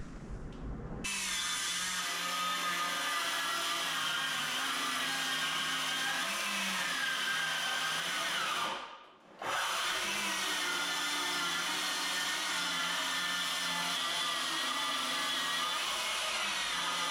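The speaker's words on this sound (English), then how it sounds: "I'm just gonna cut down the 4x8 sheets of plywood and pop them in here." A track saw cuts down 4x8 sheets of plywood for garage shelving, a loud continuous whine and grinding roar held for many seconds, broken once by a short pause before the cut resumes, with no talk.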